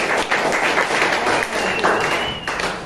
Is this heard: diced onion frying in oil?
no